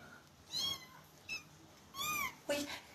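A kitten meows several times, high drawn-out cries in separate bursts, close and fairly clear over a quiet background.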